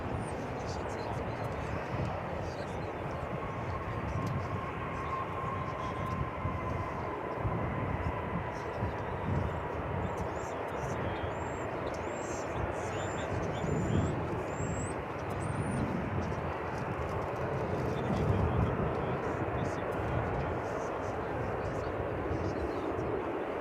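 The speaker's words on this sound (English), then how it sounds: "I can tell you that flight 2114 from Santa Ana, California is arriving" Airliner on flight 2114 from Santa Ana, California, arriving at DFW Airport, a steady broad engine roar that holds for the whole stretch and swells slightly near the end, with voices talking over it.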